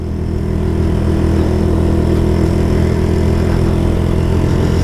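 A new motorcycle's engine runs steadily and close by, a continuous low droning rumble at an even level with no talk over it.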